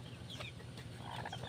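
A mother hen, the brooding hen of a clutch of chicks, clucks softly in a low, continuous murmur against steady background noise, with no talking.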